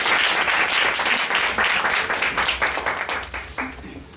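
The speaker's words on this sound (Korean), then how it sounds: "박수로 모시겠습니다" Audience applause welcoming a pastor to a church pulpit, a dense, sustained wash of many hands clapping that stays full and lively before gradually thinning toward the end.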